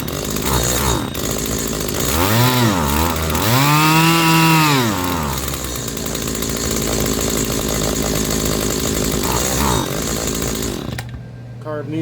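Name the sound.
Stihl HT 70 pole pruner engine running test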